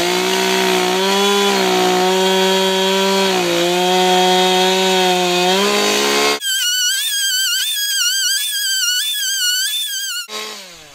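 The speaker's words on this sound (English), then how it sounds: "Then it's just a matter of snipping it up with a chainsaw." A chainsaw cuts up fallen timber beside a woodshed on a cantilever sawhorse: a loud, steady engine whine that bogs down in pitch while cutting, then revs high and shrill for several seconds before dropping off.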